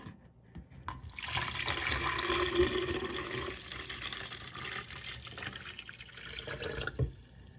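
Tap water running steadily into a container to make lime water for preserving eggs, a close hiss and splash that starts after a second and continues for several seconds before tapering off.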